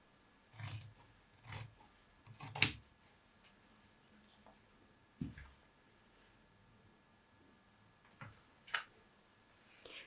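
Scissors snipping fabric for a jeans fly extension, a handful of separate short crisp cuts spaced out with quiet pauses between them, close and fairly faint.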